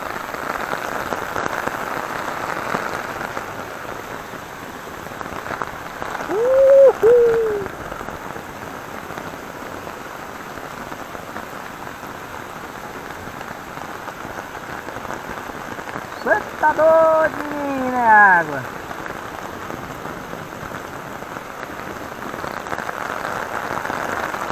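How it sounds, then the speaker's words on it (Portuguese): Steady heavy rain pours down as a broad constant hiss throughout, with a few brief voice-like sounds rising over it midway. "É chuva com força."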